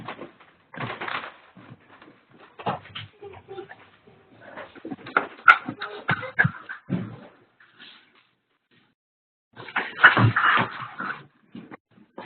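A dog whimpers before going into its kennel: short, irregular bursts of whining with quiet shuffling, broken by a few seconds of silence before a final louder burst.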